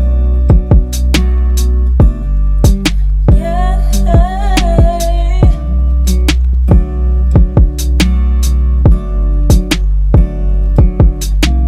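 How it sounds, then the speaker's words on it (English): Sad lo-fi beat made in FL Studio, now with a deep sustained bass line under the steady kick, hi-hat and snare pattern and soft melodic keys, loud and full without any voice. "So what I did was I added a bass, and the bass pattern sounds like this."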